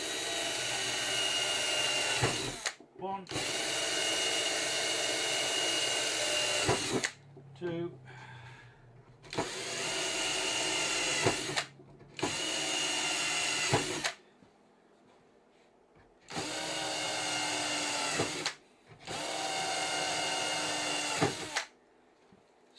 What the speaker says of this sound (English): Drill these holes out.